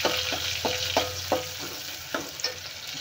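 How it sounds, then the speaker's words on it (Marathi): Onion and cumin sizzle in hot oil, a steady close frying hiss broken by regular scraping stirs every half second or so. "आता छान गोल्डन होईपर्यंत याला फ्राय करून घ्या तेलामध्ये"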